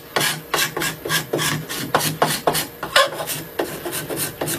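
A wooden surface being rubbed like sandpaper while an edge plane is made, rhythmic rasping strokes repeating about twice per second, close and clear, with no talking.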